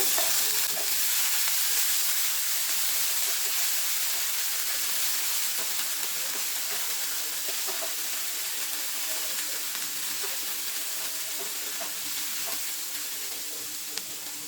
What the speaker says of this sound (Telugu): ఒక స్పూన్ అల్లం వెల్లుల్లి పేస్ట్ వేసుకొని పచ్చివాసన పోయే వరకు వేయించుకుందామండి